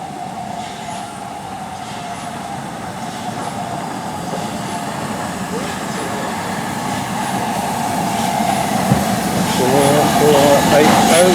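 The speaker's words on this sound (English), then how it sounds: "This looks like our locomotive of the day." A train locomotive near York rumbles and hums steadily, growing gradually louder with a low drone and rising whine, while people talk over it.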